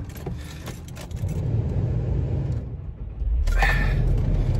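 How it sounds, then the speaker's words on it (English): A car engine idles steadily after a head gasket repair with liquid sealant, a low continuous rumble with a few clinks and handling noises over it, close by and with no speech. "Right, car is running."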